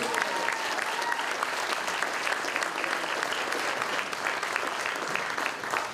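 Audience at a city's State of the City address bursts into sustained, dense applause filling the room, steady and loud throughout with a faint voice briefly audible beneath.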